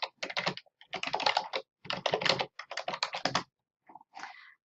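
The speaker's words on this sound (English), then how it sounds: "I remember my username and password, so I'm going to type them out." Someone types a username and password on a computer keyboard in four quick, clattering bursts of keystrokes, close and clear, with short pauses between them and a few final taps.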